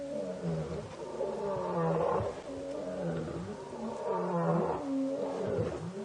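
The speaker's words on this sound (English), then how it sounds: "So these male lions are running in here." Male lions roar on safari in the wild near a dying buffalo, deep rhythmic grunting roars repeating in a steady series, loud and fairly close.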